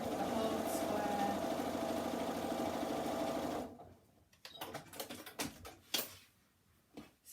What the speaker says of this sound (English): So I'm sewing through the foundation piece, the whole square,